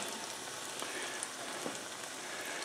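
Chicken pieces, coated for crispy fried chicken, fry in hot oil on a stove with a steady, dense sizzle and crackle that holds at an even level throughout, with no talking.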